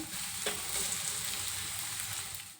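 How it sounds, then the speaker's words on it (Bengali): Cut pieces frying in a pan for a Bengali festive meal, a steady close sizzle and crackle running throughout with a few brief stirring scrapes. "ভাবলাম যে এগুলোকে আমি এখন ভেজে নিই"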